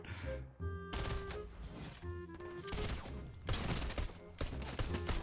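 Rapid bursts of video game gunfire, several fusillades and machine-gun rattles crackling in quick succession at close range, with no talk over them.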